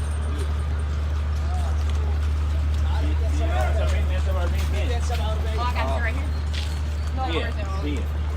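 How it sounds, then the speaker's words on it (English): Steady clip-clop of a carriage horse's hooves on pavement in Egypt beneath a constant low engine hum, with people chattering nearby throughout. "we're finna ride a horse carriage"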